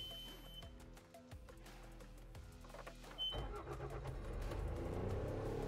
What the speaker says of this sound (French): Démarrer le moteur.